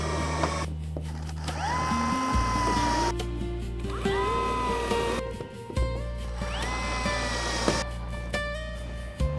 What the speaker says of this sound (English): pre-drilling the holes definitely makes this a lot easier